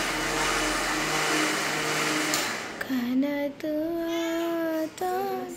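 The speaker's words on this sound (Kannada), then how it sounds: "ಮಿಕ್ಸಿ ಸೌಂಡ್ ಮೇಲೆ ಕೇಳಿಸ್ಬೋದು." A kitchen mixer grinder (mixie) whirs loudly for a few seconds, then cuts out, and voices follow in a domestic setting.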